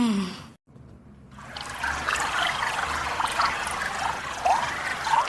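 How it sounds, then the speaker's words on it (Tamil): Water runs from a bathroom in a Tamil cartoon house during a power cut. After a brief silence a soft, steady trickle and splash sets in and continues, fairly quiet with small gurgles. "என்ன தண்ணி சத்தம் கேக்கு?"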